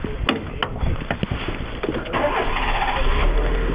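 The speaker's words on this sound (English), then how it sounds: "So most cars should pretty much start like that." A used car's engine is cranked over, with several sharp starter pulses, then catches and settles into a steady, close, loud idle.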